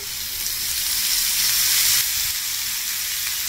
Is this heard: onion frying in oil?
yes